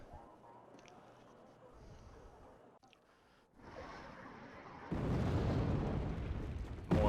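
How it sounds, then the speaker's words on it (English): Rocket artillery explosions from the Wargame strategy game, a low rumbling roar that swells and drops, then surges louder and denser toward the end, with bursts layered over a continuous background. "More rocket artillery coming in and killing infantry"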